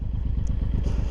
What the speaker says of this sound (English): That's how I need to start my motorcycle every time.